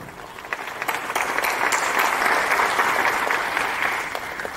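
Loud, sustained audience applause at a Tamil film event, a dense wash of many clapping hands that swells and holds steady for several seconds.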